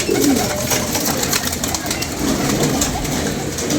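Pigeons coo softly on a rooftop against a steady background of noise, with a brief bird call near the start.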